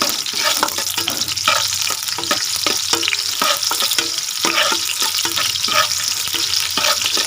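Chopped onions stirred and sautéed in a clay palayok, following garlic: a loud, steady sizzle throughout, broken by repeated scraping stir strokes, with no talking.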